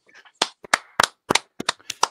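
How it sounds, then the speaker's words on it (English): About eight crisp handclaps land unevenly over two seconds, close and dry, from a small group cheering a bass-fishing top 10 segment. "there big applause for the top 10"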